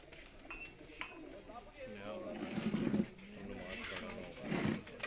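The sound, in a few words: pigeons cooing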